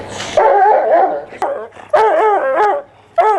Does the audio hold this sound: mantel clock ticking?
no